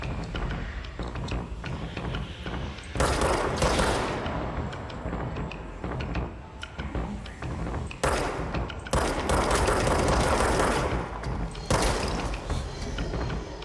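Repeated bursts of gunfire from snipers in the video game Control, loud volleys clustered around several moments over a constant roar of battle noise, with no talking.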